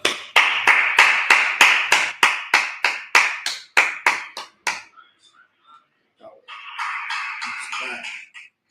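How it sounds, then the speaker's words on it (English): A crowd claps together in a steady, rhythmic unison beat, roughly fifteen sharp claps over about five seconds. The clapping then stops and a voice begins talking. "All right, let's clap it up."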